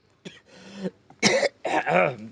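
Several harsh coughs come in quick bursts, a short one, then two louder, rougher fits close together, near and clear with no talk.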